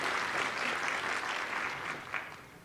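An audience claps for a presenter at a tech conference talk, a dense, steady burst of many hands, fairly far off and moderate in level, fading slightly toward the end.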